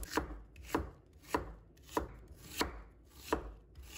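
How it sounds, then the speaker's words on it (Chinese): A knife cuts an onion into thin strips on a cutting board in six evenly spaced, crisp chops, close up and fairly quiet with no speech. "放在案板上，把它切成细丝"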